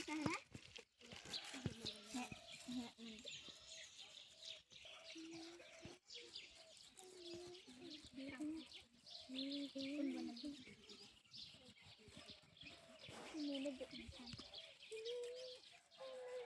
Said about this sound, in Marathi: या ठिकाणी पक्षी किलबिलाट करत आहेत